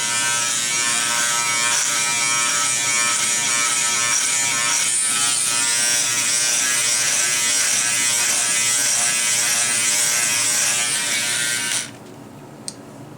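Steady high-pitched buzz of an electric trimmer cutting beard sideburns, close and loud for about twelve seconds before cutting off abruptly, with a small click after.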